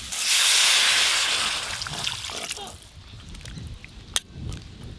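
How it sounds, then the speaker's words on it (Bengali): Water hisses and splashes into a hot pan of lightly stirred, salted vegetables with turmeric, a loud steamy burst at first that fades into softer bubbling and trickling, with a sharp clink near the end. "সব কিছু সবজি একদম হালকা করে নেড়ে নিয়েছি, জল দিয়ে দেব।"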